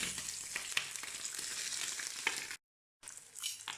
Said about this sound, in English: And then let it fry.